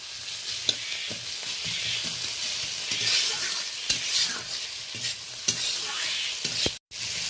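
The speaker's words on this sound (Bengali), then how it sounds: "পেঁয়াজের সাথে আদা রসুনটা ভালো করে একটু কষিয়ে নিলাম হালকা করে।" Onion with ginger and garlic paste stir-frying in a pan, a close steady sizzle with repeated scraping and tapping stir strokes, briefly cutting off near the end.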